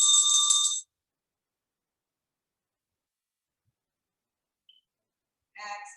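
A yoga session bell rings once, a bright sustained chime that fades out, then after a long stretch of near silence a second softer ring sounds near the end.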